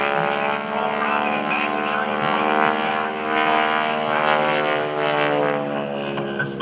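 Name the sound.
Blue Angels aerobatic airplane flying at airshow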